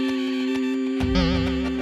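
A voice imitates a buzzing bee with a sustained nasal humming drone that shifts and wavers partway through, close and fairly loud, with no other sounds.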